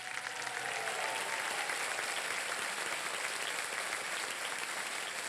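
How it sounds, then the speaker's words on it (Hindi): A studio audience applauds steadily on a Hindi television quiz show set, dense even clapping sustained throughout at moderate level with no talk over it. "तालियां बज जाएं इनके लिए।"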